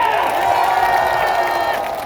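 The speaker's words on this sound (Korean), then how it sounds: "박수 한번 치겠습니다" Crowd at an outdoor election campaign rally for candidate Kim Moon-soo in Gunpo, Gyeonggi, cheering and clapping together in a loud, sustained roar with a droning tone running beneath.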